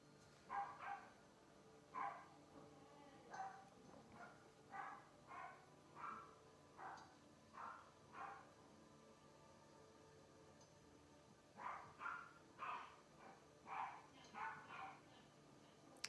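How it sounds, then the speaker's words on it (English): Several dogs bark in repeated bursts somewhat off in the distance indoors, two clusters of sharp yips and barks separated by a short quiet pause. "Sorry, my dogs are going crazy."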